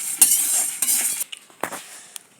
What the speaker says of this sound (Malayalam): മുളകും കൂടെ ഇട്ട് നന്നായിട്ട് വറുത്തെടുക്കാം